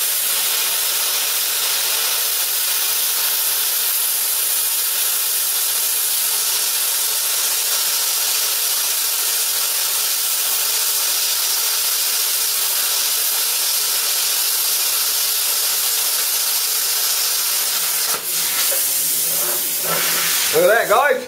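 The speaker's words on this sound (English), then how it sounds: "We'll try and cut half inch. Hee-hee! Half inch, 90 PSI." A plasma cutter slices through half-inch steel with its air supply set to 90 PSI, giving a loud, steady, continuous hiss for most of the stretch and a brief crackling change near the end.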